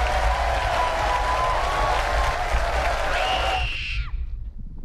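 A large crowd in a scene from the film Oppenheimer cheers and applauds as a dense, continuous roar, then cuts off abruptly near the end, leaving a brief tail of a voice and quiet.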